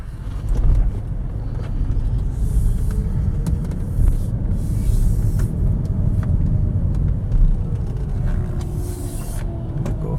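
Inside a 2011 Toyota Prius weaving through cones, a steady low road rumble and tyre hum run continuously at moderate level, with faint wind noise and no voices.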